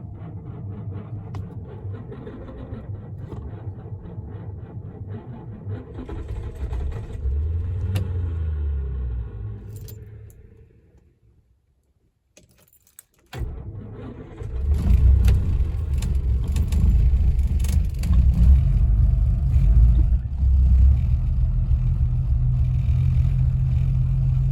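An old car engine cranks in the cold, rumbling and struggling, then cuts out briefly before catching and settling into a loud, steady idle.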